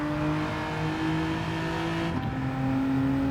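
A Genesis G70 Gr4 race car in a video game holds a steady, loud engine note under throttle on a long straight, with a brief shift blip midway before the tone carries on.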